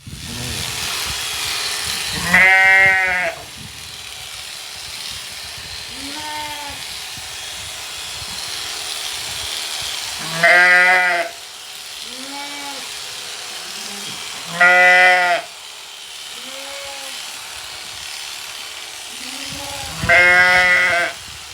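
Sheep bleat at a farm during professional shearing, four loud, close wavering calls spaced several seconds apart with fainter bleats between, over a constant electric clipper buzz.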